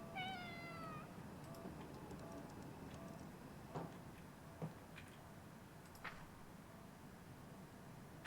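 A cat meows once in the video game Conarium, a short drawn-out mew near the start, followed by faint scattered clicks and ambient hush.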